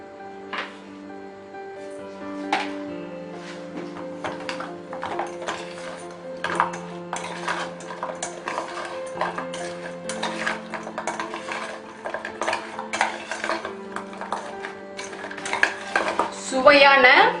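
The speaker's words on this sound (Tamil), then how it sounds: "இப்போ இதில் நம்ம சுகர் வேணா போட்டு மிக்ஸ் பண்ணிக்கலாம்." A spoon stirring sugar into honey candy batter in a metal vessel, with repeated scraping clinks and taps against the pot in an uneven rhythm, close and clear, louder toward the end, no talking.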